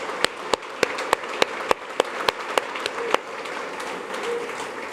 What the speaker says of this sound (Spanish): Le dan un aplauso al único que la merece.